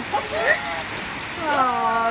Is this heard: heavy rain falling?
yes